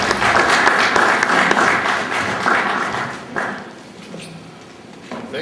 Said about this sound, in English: to the clap of hands.